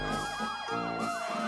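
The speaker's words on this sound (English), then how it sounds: "Fire trucks and ambulances arrive." Wailing sirens of fire trucks and ambulances arriving at an emergency, several overlapping sweeping tones rising and falling, loud and continuous with no talk.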